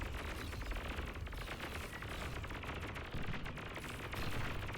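Dense, continuous weapons fire from a real-time strategy battle in Beyond All Reason, with raiding units attacking a base; rapid overlapping shots and blasts sustain a steady, loud wall of sound throughout.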